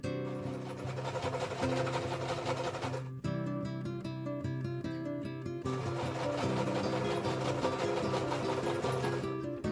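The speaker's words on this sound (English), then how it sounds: "So I'm going to sew it like this, then I'm going to trim a little bit of the seam allowance" A sewing machine runs steadily while stitching a French seam in a homemade witchy garment, its rapid mechanical whir continuing close and loud with a brief change in pace partway through.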